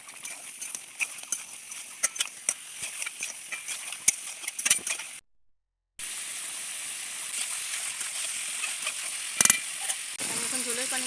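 Fried cauliflower and potato pieces go into a pan of cooked-down spice paste and are stirred, with scraping clicks over a steady hiss, a brief dropout, and a voice talking near the end.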